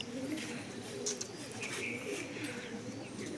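Soft pigeon coos repeat at close range from pigeon coops, over a quiet background murmur, with a few faint chirps.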